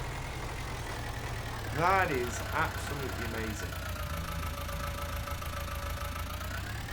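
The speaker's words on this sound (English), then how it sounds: "That tractor is over halfway through that field on a 3-meter cultivator." A tractor engine in Farming Simulator drones steadily as it pulls a 3-meter cultivator across a field, with a low, continuous hum throughout while someone talks briefly over it.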